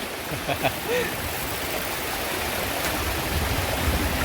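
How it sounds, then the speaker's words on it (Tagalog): Strong river current rushing along a hiking loop from San Mateo to Montalban, a steady broadband roar close by that fills the whole clip, with faint voices now and then beneath it. "Lakas ng agos dito."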